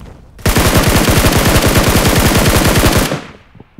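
One sustained, evenly paced automatic burst from a SCAR-L rifle in PUBG Mobile, loud and close, running about two and a half seconds and then cutting off into a short fading tail.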